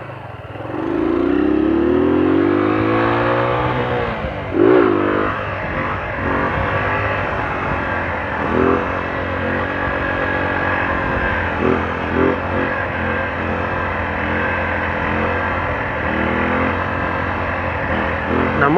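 A motorcycle engine revs hard and loud nearby as the rider lets the clutch out for a wheelie. A wavering, rising roar runs almost the whole stretch, with throttle blips and dips and occasional bumps.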